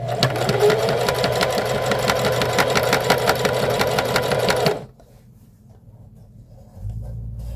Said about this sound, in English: Fold it over with my fingers and then sew a section